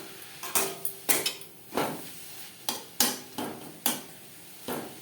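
Sojne (drumstick leaf) greens are stirred in a metal pan with a spoon, giving repeated sharp scraping clinks at an irregular rhythm, close and fairly loud, with a faint sizzle underneath.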